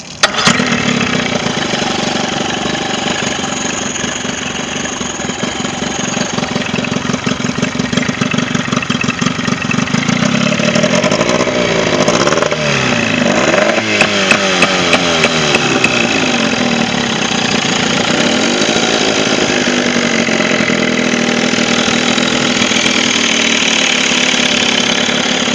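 A Johnson 25 HP outboard motor, freshly serviced with a new impeller and spark plugs, runs steadily and loudly close by, its idle rising and wavering in pitch midway as the throttle is turned up.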